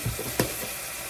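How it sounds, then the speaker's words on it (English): Garlic sizzles in a hot pan with onion and wilted cilantro as it is stirred for Spanish rice, giving a steady soft crackle with a brief louder scrape of the spoon near the start. "I'm gonna go ahead and add a little bit of garlic. And you wanna kind of keep stirring it so you don't burn the garlic too"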